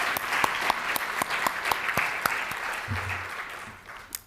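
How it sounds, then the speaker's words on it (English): An audience applauds panelists at a New York policy forum, with clearly separate claps standing out over a dense wash of clapping that gradually tapers off. "So let's give them a round of applause."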